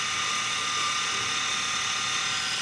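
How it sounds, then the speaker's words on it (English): A small electric motor drives a worm gear on a handmade wire model car with four-wheel drive, giving a close, steady, high-pitched mechanical whine that holds unbroken throughout. "So while that's running, motor's still running."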